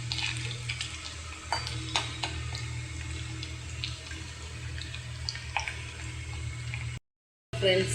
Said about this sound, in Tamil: இப்போ வந்து அதே எண்ணெயில் கடுகு, உளுத்தம்பருப்பு, வெந்தயம், பூண்டு போட்டு நான் ஃப்ரை பண்ணிகிட்ருக்கேன்